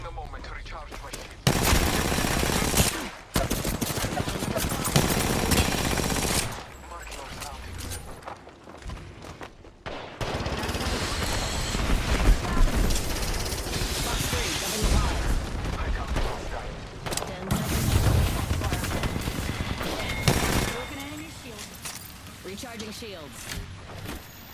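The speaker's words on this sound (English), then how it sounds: "I am taking fire." Heavy video game gunfire in long bursts, with automatic weapons, booming impacts and brief pauses between volleys, loud and close, with voices talking over the shooting.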